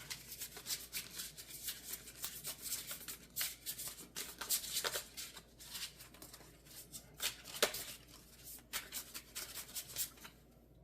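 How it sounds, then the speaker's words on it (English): A deck of pocket oracle cards is shuffled by hand in quiet, soft riffling bursts and light papery rubbing that repeat close up, with no talking. "Let's do a little shuffling."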